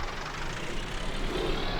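Tractor engine in a vintage farming survival video game, a continuous rumbling drone with broad mechanical noise, steady and close throughout with no voices.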